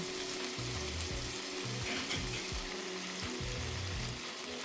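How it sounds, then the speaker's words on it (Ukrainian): Liver, 500 grams, sizzles and fries in a pan that was just used for vegetables, a constant dense crackle with soft scraping and stirring knocks underneath. "висипаю 500 г печінки і гарно обсмажую до готовності"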